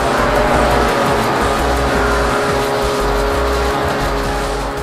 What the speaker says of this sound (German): Dabei heizt ihr dann wieder mit hochgetunten Rennmaschinen über 17 verschiedene Grand Prix Kurse